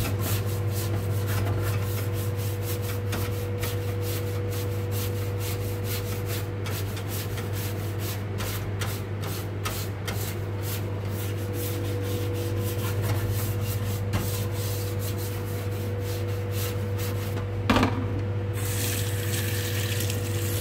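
A brush scrubs steadily back and forth across a plastic aircon cover sprayed with JIF cleaner, a continuous close rubbing texture over a low steady hum, lasting without pause and ending with a brief clatter.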